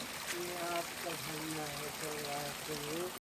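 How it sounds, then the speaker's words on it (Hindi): Steady rushing water from a mountain spring flows continuously over rocks, close by, while a person talks over it. "पहाड़ों से लगातार झरने का पानी चल रहा है"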